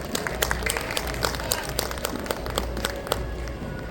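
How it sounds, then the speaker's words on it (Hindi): An audience at a school annual day claps loudly for the children, a steady wash of applause with distinct sharp claps standing out, heard close and continuous throughout. "तो एक बार जोरदार तालियों के साथ जीवोदय के प्यारे बच्चों का उत्साहवर्धन करें।"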